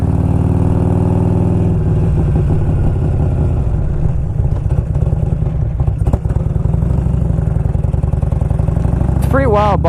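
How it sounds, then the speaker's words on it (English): A 1992 Harley-Davidson Electra Glide Sport with a performance engine kit idles low and steady, its deep, loping rumble close and continuous, with a brief throttle blip near the end. "it's a performance engine kit on there. So it's gonna have a really low idle"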